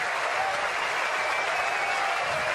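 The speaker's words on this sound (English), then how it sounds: "The crowd purring." Steady applause from a large tennis crowd at a Roger Federer match, a dense continuous patter of clapping mixed with a low murmur, sustained throughout without a break.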